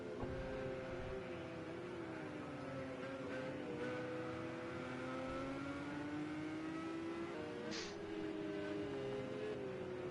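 A Porsche Supercup race car engine in a racing sim game at Catalunya drones steadily with rising and falling pitch as it accelerates, a continuous, fairly quiet whine without interruption.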